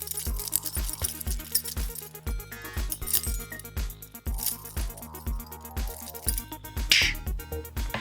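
Car keys jangle and clink in quick rhythmic bursts, sampled on a Teenage Engineering OP-Z, bright metallic chinks repeating in a steady pattern, close and fairly loud with no speech.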